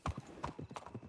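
Horse hooves clip-clop in Red Dead Redemption 2, a quick uneven trot of soft thuds close by, with faint background sound beneath.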